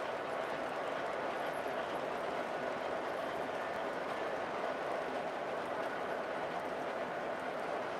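MTH and Lionel model trains run together on the same track, making a faint, continuous rolling rumble with a light clatter throughout.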